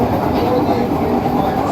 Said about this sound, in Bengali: যেখানে এসে পৌঁছেছে আমাদের train Sealdah Ranaghat AC EMU local